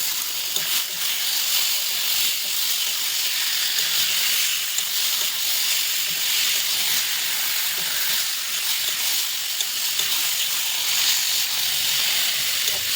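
Meat tipped into a hot pan in a home kitchen gives a loud, steady broadband sizzle and hiss that holds evenly for the whole stretch, close by, with no voices over it.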